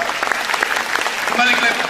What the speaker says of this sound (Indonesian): beri tepuk tangan dulu buat Tuhan kita